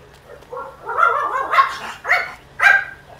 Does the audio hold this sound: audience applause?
no